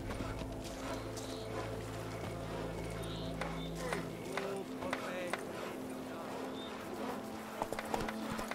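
Roach, a horse in The Witcher 3, gallops in a rhythmic run of clip-clop hoofbeats. The steady hoof pattern continues under game music and ambience, with a voice speaking over it.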